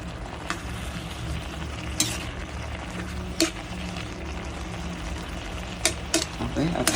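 Chop suey stirred in a pan, with steady low sizzling and occasional sharp scrapes and clinks of a utensil against the metal, close and moderately quiet, a few spaced taps standing out.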